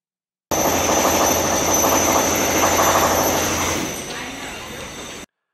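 Loud, continuous grinding and rattling of power tools and machinery from a hotel lobby remodel behind a barrier wall, with some faint voices underneath, easing slightly toward the end.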